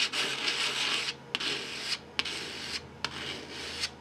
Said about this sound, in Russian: Для начала с помощью напильника удаляю выступающие части.